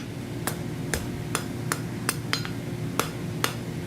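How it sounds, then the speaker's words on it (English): Hand hammer striking hot steel on an anvil while forging a twisted snub end scroll, a steady series of about nine sharp metallic ringing blows at an even pace over a constant low hum. "So we'll keep hammering that out, clean up the transition here."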